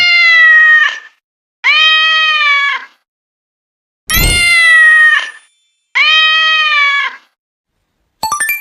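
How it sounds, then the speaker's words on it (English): A cat meows four times in long, clear, drawn-out calls separated by short silences, loud and close, ending with a brief ringing ding. "This is cat. Cat says meow"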